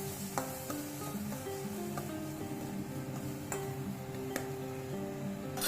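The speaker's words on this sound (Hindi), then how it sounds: "Onion, capsicum. इसे हम सौते कर लेंगे।" Onion and capsicum sautéing in a pan, a low steady sizzle broken by scattered ticks and scrapes of stirring, heard close with no one talking.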